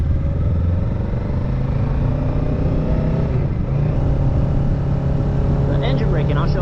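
A Kawasaki Ninja 650 engine drones steadily while riding, with a continuous low hum and wind rush at constant loudness and no sharp revving.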